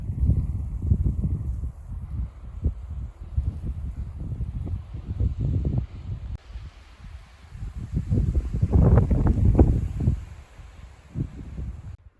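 Gusty wind on a high mountain trail near the summit of a 14,000-foot Colorado peak buffets the microphone in rough, rumbling waves, rising and falling, strongest toward the end, with no voices heard.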